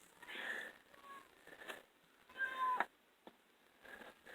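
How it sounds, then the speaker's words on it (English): A pet cat meows several times indoors, short clear calls spaced apart with brief pauses between them, moderately near and fairly quiet, with no talking over it. "Sorry about that, my cat meowing."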